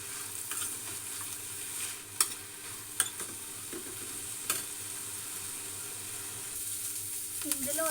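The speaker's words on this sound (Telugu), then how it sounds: "చూడండి ఇట్లా మంచిగా వేగాలన్నమాట" Sanangi leaves sizzle and fry in oil for a tomato chutney, a soft, steady crackle with a few sharper stirring clinks as the pan is worked.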